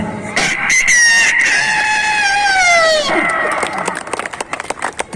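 A person mimics a rooster's crow once more, a loud near cock-a-doodle-doo of about three seconds ending in a falling tail, followed by scattered short noises.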